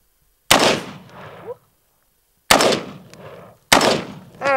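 Three sharp, loud gunshots from a gold-plated pistol fired at a dummy's head, each crack followed by a short rumbling echo, with pauses between the first and second shots and the last two close together.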